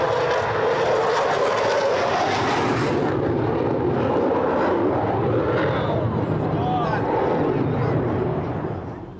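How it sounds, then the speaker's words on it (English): Royal Air Force Typhoon jet passing overhead, a loud continuous broadband roar that swells in from one side and then slowly recedes, with people talking faintly beneath it. "So you can hear the volume increasing from the right-hand side. I give you Royal Air Force Typhoon."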